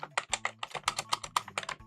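Rapid typing on an Attack Shark X98 Pro keyboard, a quick, uneven string of crisp close-up keystrokes with no voices.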